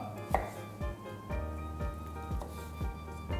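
Knife chopping a carrot into pieces on a cutting board, with a steady series of firm, evenly spaced thuds, close and clear, with no talk.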